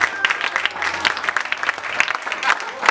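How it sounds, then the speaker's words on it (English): A magic show audience claps for a volunteer after a banknote trick, the applause loud and uneven with sharp individual claps standing out, while a voice carries over it. "Let's give her a round of applause"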